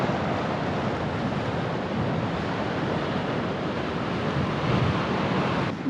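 Ocean waves crashing and thundering against coastal rocks on the NSW Central Coast near Munmorah, a steady, loud, dense roar of surf with wind noise and no talk.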